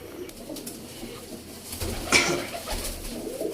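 Breeder pigeons coo softly in a loft, with low murmuring calls and a brief louder burst midway, close and fairly quiet.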